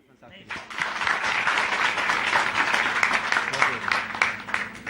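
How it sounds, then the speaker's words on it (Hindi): Audience gathered in Rewari applauds themselves, the clapping swelling quickly from near silence into a lively, crisp, dense round that stays strong to the end. "क्या आप लोग सब मिलकर ताली बजा सकते हैं अपने लिए?"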